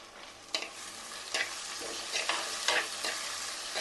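Chopped tomato and long-cut green chillies sauté in a pan for crab curry, a close crackling sizzle with repeated scraping strokes of a spoon stirring every half second or so.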